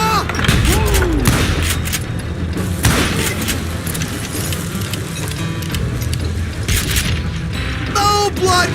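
Dense gunfire from Call of Juarez: Gunslinger, a Wild West shooter, with repeated shots and mechanical clatter running continuously under a speaking voice.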